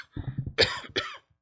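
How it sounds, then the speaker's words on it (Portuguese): Two close, sharp coughs from a person during a seated interview conversation, the first a quick double burst and the second a shorter follow-up, loud and alone with no talk over them. "Não tem nada, isso daí é uma tosse."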